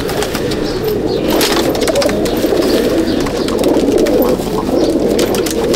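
A loft of domestic Madrasi pigeons from Chennai and Andhra, kept in Howrah, fills the space with dense, continuous close-up cooing and soft murmuring, loud and unbroken.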